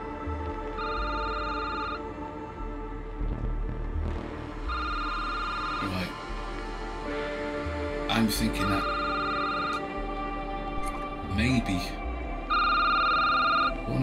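A telephone rings in bursts inside a video game's security booth, repeating every few seconds with steady electronic tones, while someone talks over it and ambient game noise hums underneath.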